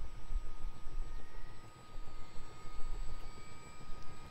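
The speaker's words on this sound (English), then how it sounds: "we'll take our engine start switch over to start number two" Engine number two of a Chinook CH-47D helicopter in a flight simulator starts up with a steady, low turbine rumble and a thin high whine that hold throughout, close and unbroken.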